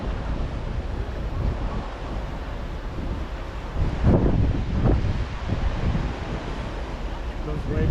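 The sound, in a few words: ocean waves crashing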